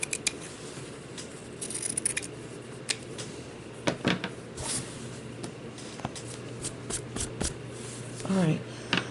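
Scissors rough-cutting paper around a woodland creature ornament, producing intermittent close snips and rustles over a steady low hum, with a voice talking at points.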